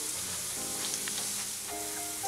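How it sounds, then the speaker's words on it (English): Fish pan-frying over medium heat makes a brief, close, steady sizzling hiss with a few light crackles. "Just let that fry for a few seconds."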